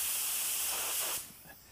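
A spray gun blasting air while pressure is set for clear coat at around 15 to 20 PSI, a loud steady close hiss that cuts off abruptly, followed by a faint residual hiss.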